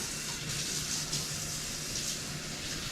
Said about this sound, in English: Now I can come over and wash up my hands